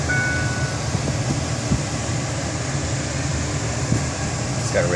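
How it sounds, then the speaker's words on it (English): Air conditioning running inside a 2005 Ford F150 truck, a steady broad blowing hum filling the cab at fairly loud level, with occasional faint clicks and no one talking over it. "the air conditioning's on,"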